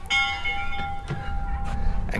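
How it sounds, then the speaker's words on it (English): A single town bell in South Park, Colorado struck once, its bright metallic tone ringing and slowly decaying over a few seconds, with faint clunks and background noise beneath. "And kids love to ring the bell."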